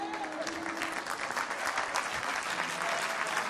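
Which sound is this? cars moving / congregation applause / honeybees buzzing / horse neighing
congregation applause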